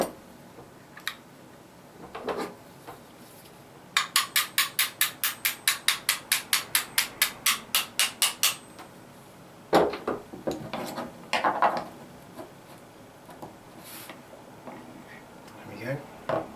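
Pins tapped out of a KJ Works KC-02 during disassembly, a steady series of about a dozen sharp, evenly spaced metallic taps, near and clear, followed by a few louder knocks and handling noises.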